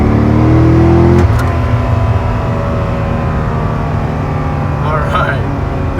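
A 2007 Chevrolet Corvette Z06 C6 pulls hard under acceleration, its engine note climbing in pitch, then shifting into a steady loud drone that holds close and powerful throughout.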